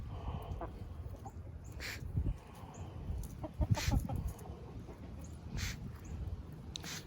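Backyard chickens, including a broody hen, clucking in short scattered bursts over a quiet outdoor background, with a couple of louder calls near the middle; no talking.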